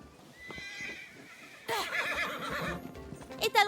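A horse in a video game gives a loud, close, shrill neigh that rises and wavers over about two seconds, with game ambience and hoof clopping before it.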